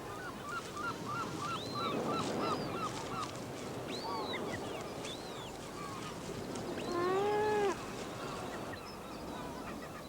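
Gulls of two interbreeding species call in a colony, giving repeated honking, rising and falling cries that carry at moderate distance over a steady wash of background noise.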